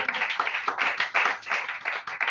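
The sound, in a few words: audience clapping hands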